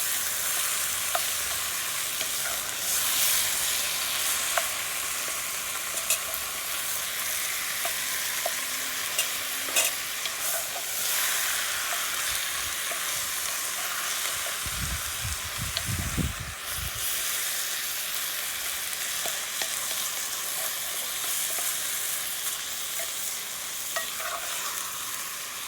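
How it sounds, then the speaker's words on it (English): A couple of pounds of ground beef browning in a pan for homemade chili, a continuous close sizzle and hiss with occasional stirring scrapes and a short rumble midway. "we're going to let this beef get all browned up"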